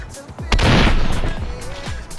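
Gunfire from CJ shooting in modded GTA San Andreas: a loud close burst of several shots over about a second, then a fainter crack, with a voice talking underneath.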